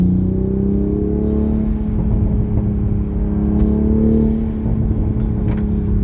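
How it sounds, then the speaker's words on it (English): A 2020 Toyota Supra fitted with an MST Performance air intake, heard from inside while driving: a steady loud engine drone and whir with rising and falling tones, and faint airy whooshes near the end. "the sound is definitely can hear the swooshing, whistly, blow-off sound coming from the air intake"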